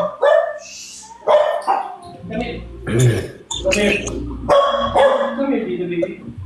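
Dogs bark in several loud, close bursts, mixed in among people talking and a throat clearing.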